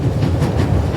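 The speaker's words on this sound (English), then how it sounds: "The coal car and an old-fashioned steam engine are in front of it." Steam train rolling along in the video game The Raven, with an old-fashioned steam engine and coal car up front; a steady, loud rumble of rail travel with rhythmic clickety-clack fills the whole moment.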